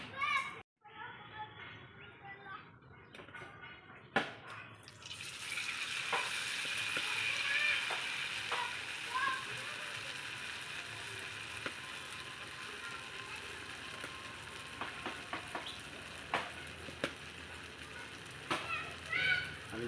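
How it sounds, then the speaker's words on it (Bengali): Bread slices coated in gram flour batter drop into hot oil for bread chops, sparking a steady, close sizzle with occasional clinks of a utensil, while someone talks over the frying. "আমি ভেজে নেব, দেখো কীভাবে ভাজছি।"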